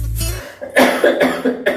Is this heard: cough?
yes